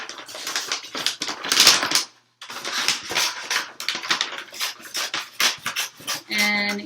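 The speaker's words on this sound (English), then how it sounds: "you're going to take your scissors and you're going to cut out one side of your bag" Scissors cutting through a brown paper bag, giving crisp rustling snips and crinkles in uneven bursts, close and fairly loud, with a brief pause partway through and a short tonal sound at the end.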